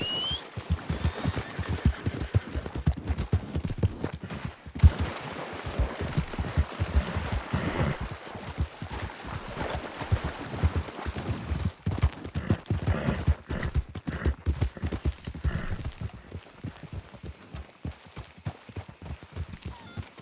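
Steady clip-clopping of horse hooves in the video game Red Dead Redemption, a continuous rhythmic clatter at moderate volume, with scattered sharp cracks mixed in.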